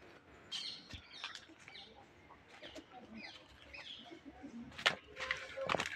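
Pigeons in a breeding loft give soft coos and scattered chirps and wing flutters, fairly faint, with a few sharper bursts near the end and someone talking quietly nearby.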